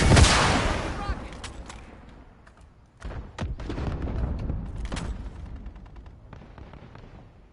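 A rocket explosion in the Call of Duty video game bursts loudly at the start, followed by a second blast and scattered gunfire amid battle noise, with in-game voices calling out over the action.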